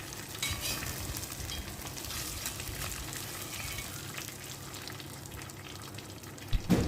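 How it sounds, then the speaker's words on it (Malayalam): Finely chopped onions hit hot oil left from frying chicken, giving a steady, close sizzle with stirring scrapes throughout and a louder burst of crackle right at the end. "പൊടിയായി അരിഞ്ഞു വെച്ചിരിക്കുന്ന സവോള എണ്ണയിലേക്ക് ചേർക്കാം"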